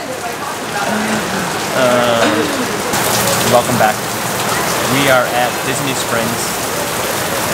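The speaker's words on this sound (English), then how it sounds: "as you can see, it is raining behind us here at the springs." Rain falling steadily outdoors at Disney Springs, a constant patter on surfaces beneath people talking close by.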